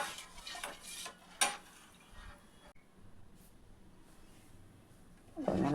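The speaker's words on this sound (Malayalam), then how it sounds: "ഇട്ടിട്ട് നന്നായി ഇളക്കണം" Payasam is stirred in a cooking pot with a spoon, giving soft scraping and clinking against the metal, a sharp tap early on and a louder scrape at the end, faint and close.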